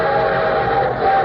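A sustained train whistle blows in a steady, bright tone, loud and close, opening an old radio show and holding throughout the short moment.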